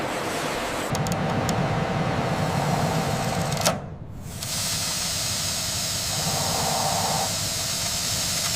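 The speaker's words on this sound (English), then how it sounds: "the noodles travel through the industrial steam chamber, a critical step in the manufacturing process" An industrial steam chamber in an instant noodle factory hisses loudly and continuously as noodles pass through, with a brief dip and drop in the hiss midway before it resumes, plus faint mechanical ticking.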